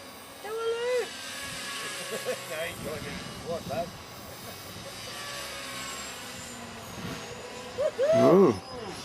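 A small TRex 250 RC helicopter flies in rough, windy conditions. Its thin, steady rotor whine runs throughout beneath wind noise and people talking, rising louder near the end.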